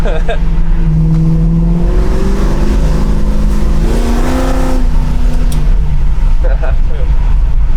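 The V8 of a 1970 Pontiac Firebird running on a 2-barrel carburetor rumbles loud and close in traffic, its pitch climbing as it revs and pulls, then dropping and climbing again, while someone talks over it.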